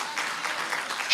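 Church congregation claps in a dense, steady wash of applause that swells slightly at the end.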